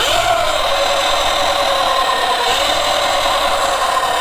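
Surron Light Bee X 2023 electric motorbike fitted with a Torp TC500 controller accelerating hard in sport mode, giving a steady loud high motor whine with a rising tone and rattly drivetrain noise throughout, no talking.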